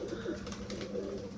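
Pigeons murmur and coo faintly inside a loft under cloudy weather, a low continuous burble with no voices.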